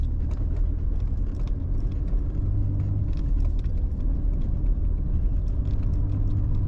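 A car driving slowly over rough, uneven ground, filmed from inside with a GoPro Hero 9 Black. A steady low rumble of the vehicle runs throughout, with loose items jangling and rattling as it bumps along. No one speaks.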